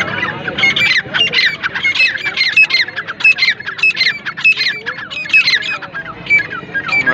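Black partridges, Iranian and southern cross birds, call at a busy bird market with a repeated series of loud, sharp, rhythmic squawking notes close by that carry on throughout.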